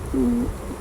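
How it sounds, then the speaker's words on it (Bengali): A single low, hooting bird call rings out once in a forest in Sreemangal, steady and mournful, lasting under half a second against quiet background noise. "পাখির ডাক, কেমন জানি একটা ভয়ঙ্কর ডাক।"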